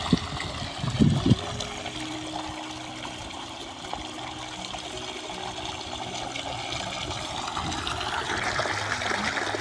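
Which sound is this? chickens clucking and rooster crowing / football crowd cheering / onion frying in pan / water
water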